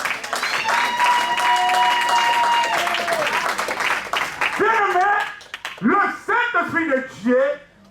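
A church congregation applauding and cheering to acclaim Jesus, a loud burst of clapping with a sustained voice over it, then rising shouts and exclamations from the crowd.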